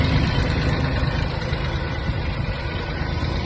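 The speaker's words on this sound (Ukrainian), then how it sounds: "Трактор працює дуже чисто" Mitsubishi GS-250 mini tractor engine idling smoothly, a steady close low rumble without changes in pace, running alone with no talk.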